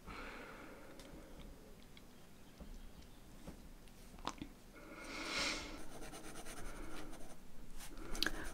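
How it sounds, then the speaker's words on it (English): Graphite pencil strokes across smooth hot-pressed watercolour paper with a slight tooth while drawing dogs: a soft, continuous scratchy rasp with a few sharper ticks, heard alone and close up. "I'm working on a hot pressed watercolour paper, which is fairly smooth but not too smooth, so it's got a bit of a tooth that shows some texture with the pencil"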